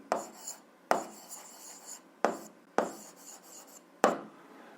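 A pen scratches across paper while an algebra exercise is written out, in five separate strokes of scratchy rasping with short quiet gaps between them, close and fairly soft.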